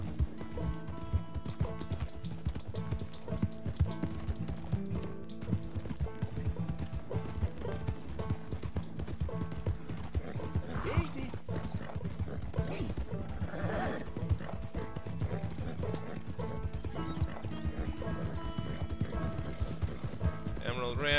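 Horse hooves gallop in the Red Dead Redemption 2 video game, a steady, rapid clip-clop that runs throughout, mixed with background game sound and some faint voices.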